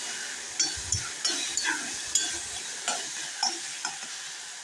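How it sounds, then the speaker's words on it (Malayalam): Tomatoes sauté in a pan under a constant sizzle, while a spoon stirs and scrapes them in regular strokes about every half second, close by. "നമ്മുടെ തക്കാളിയൊക്കെ നന്നായിട്ട് വഴന്ന് വന്നിട്ടുണ്ട്"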